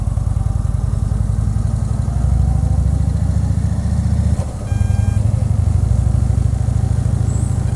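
A motorcycle rumbles steadily on a ride to the bank on a hot day, its engine drone continuous and close with a brief dip midway, and no voices over it.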